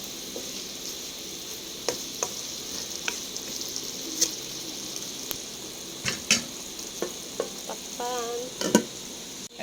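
Beef steak with plenty of white onions sizzles steadily in a pan while being stirred, with scattered spoon scrapes and clinks against the pan and no talk.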